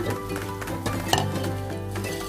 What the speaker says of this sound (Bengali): আমাকে কন্টিনিউয়াস একটু নাড়তে হবে, কর্নফ্লাওয়ার দিয়ে নাড়া বন্ধ করলে চলবে না।